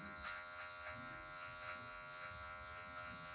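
Steady electric buzz of a hair clipper trimming a mid fade haircut, with the blade tip working lightly along the grey transition area, humming close and continuous with slight rhythmic variation.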